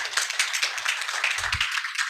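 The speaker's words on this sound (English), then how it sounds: "Let's give an applause from here." A small group claps briefly during an online summer course session on bamboo, a short, thin patter of hands heard alone.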